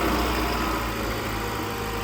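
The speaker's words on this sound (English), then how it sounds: "Engines came on there" A Lexus IS 300 car engine runs at idle, a steady close low hum with a faint vibration and no voices.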